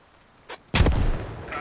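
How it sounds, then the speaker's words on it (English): A grenade blast in the military shooter Squad: one loud close boom with a rumbling tail, preceded by a faint brief crack, and no talking. "maybe that was a grenade"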